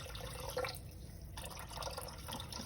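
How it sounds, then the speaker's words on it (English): Warm tap water from a kitchen sink pours steadily into a bread mixing container, a continuous close trickle and splash with faint dripping, alone without talk. "this is warm water right from my sink. I'm gonna go ahead and put the right amount in here."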